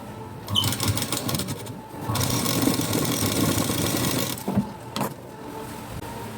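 A sewing machine stitches a blouse back and sleeves in sustained whirring runs, close and steady, broken by short pauses and a few clicks.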